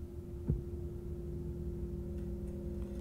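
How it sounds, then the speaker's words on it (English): Creepy heartbeats from a Zelda video game: a single soft low thump over a steady hum, faint and alone. "Ooh, creepy heartbeats."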